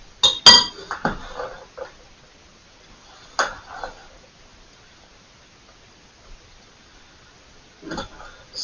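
Corned beef and cabbage salad tossed in a bowl with a spoon, giving a few scattered clinks and scrapes of utensil against the bowl between quiet pauses.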